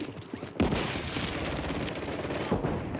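A burst of rapid automatic gunfire in Call of Duty Warzone rattles on continuously and loudly for a few seconds, with dense overlapping shots and a few sharper cracks.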